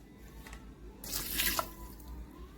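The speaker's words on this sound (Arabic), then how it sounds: "هنبدأ نحط اللبن كده اهو" Milk poured into dough in a bowl, a soft trickling pour building to a brief louder splash in the middle, then easing off; quiet and close, with no talk.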